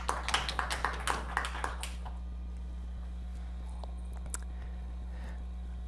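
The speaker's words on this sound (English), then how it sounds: "Let's give him a round of applause" A short burst of clapping from a small group fades out within two seconds, leaving a steady low hum and a few faint taps.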